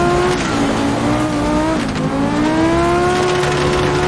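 An Audi Group B rally car drives a stage, its engine droning loud and close, pitch sliding down and rising back up as it shifts and accelerates.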